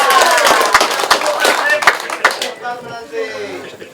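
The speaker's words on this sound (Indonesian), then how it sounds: "Tepuk tangan untuk Sebuai Timur." Crowd applause at an outdoor village gathering celebrating a shallot harvest in Sabuai Timur, dense clapping for about two and a half seconds before fading into quieter background noise and faint voices.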